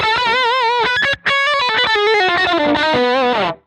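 Electric guitar with PAF-style bridge pickups and a P90 in the neck, run through an Axe-Fx III on Fender brownface amp models, playing a fast, driven lead run with vibrato and effects, loud and close, with no talking.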